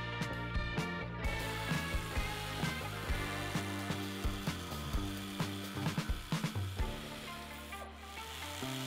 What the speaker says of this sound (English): So we're gonna screw our oil filter cap back in place.